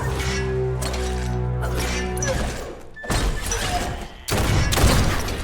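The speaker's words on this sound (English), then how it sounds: "Bullets everywhere." Gunfire in the Biomutant video game, a series of heavy booming bursts and crashing impacts separated by short gaps, loud and close over a droning tonal background.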